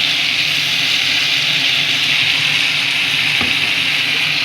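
A ground paste of garlic, onion, green chili and coriander is stirred into brinjal frying in a pan for sambar. The sizzle is a steady, even hiss with a single faint knock near the end.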